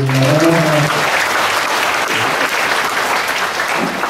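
Audience applause at a Buddhist Dharma talk in a vihara, steady and dense, filling the space evenly from start to finish, with a brief sung or spoken fragment faintly at the start.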